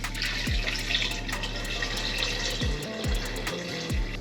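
Water runs and splashes steadily into a metal pressure cooker, close by, with a few short tonal sweeps and clicks over the flow.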